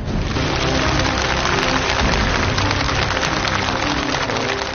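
A studio audience applauds at a Chinese television singing contest, the clapping loud, dense and steady from start to finish with no voices over it.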